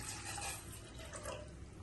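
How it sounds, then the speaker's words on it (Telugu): Water pours steadily from a glass into a small pot on a stove, a close continuous splashing gurgle with no voices. "ఒక చిన్న గిన్నె పెట్టుకుని ఒక గ్లాసు వాటర్ పోతాను"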